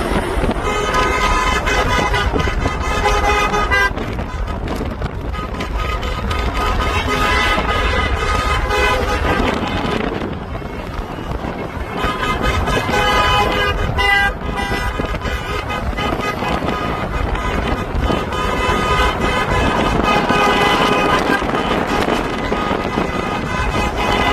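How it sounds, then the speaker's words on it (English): Convoy of trucks on a road into Delta heading to a political rally, horns honking and tooting continuously in overlapping long blasts over traffic noise and wind. "Look at all these trucks coming out for Poilievre."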